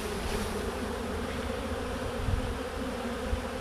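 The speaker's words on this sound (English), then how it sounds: "We're gonna shake these bees into this nuc." Honeybees buzz in a dense, continuous drone as they are shaken off a frame into a nuc box, close and steady throughout with no talking.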